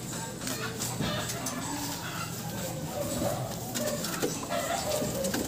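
A prize-winning racing pigeon coos softly during its showing, the low calls mixed into a constant, noisy background hum with scattered clicks and rustles.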